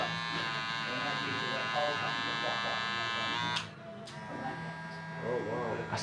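A barber's electric hair clipper runs with a steady, close buzz and harmonic whine throughout, dipping briefly midway, while talk continues over it.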